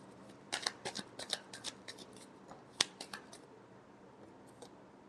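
Tarot cards shuffled in a series of quick, crisp riffling flutters and soft slaps, close and fairly quiet, with one sharper snap partway through and no voices.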